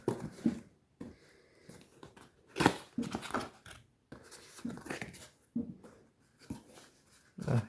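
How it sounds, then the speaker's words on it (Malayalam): A binocular box is opened by hand, giving close, quiet bursts of cardboard rustling, scraping and tapping separated by short pauses. "ഇനി നമുക്കതൊന്ന് അൺബോക്സ് ചെയ്ത് കാണാം."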